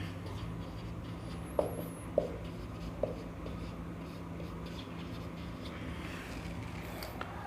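Pen writing on paper during a maths lesson on unit vectors, quiet scratchy strokes with a few sharper taps, set against a soft steady room hum and no speech.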